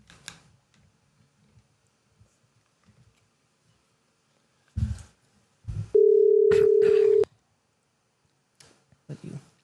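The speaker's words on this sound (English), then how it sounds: "So let's see if we can get Ronnie on the phone and find out what he's up to." A telephone dial tone sounds steadily for about a second and a half while a call is placed, bracketed by faint clicks and brief handling bumps before and after.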